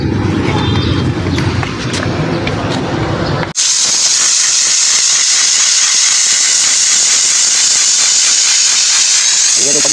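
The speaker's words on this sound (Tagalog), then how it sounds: "Yan yung pag-init ng condenser guys, pati yung radiator para matanggal yung mga dumi na nakakapit sa mga pinto." A loud steam jet hisses continuously while cleaning a car's air-conditioning condenser and radiator on a 2GD-FTV engine vehicle; a rumbling engine-like blast shifts abruptly into a sharp, sustained close hiss.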